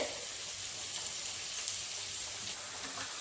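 Onions fry gently in a pan for a pepper fry dish, a soft, steady sizzle with faint crackles and no talking.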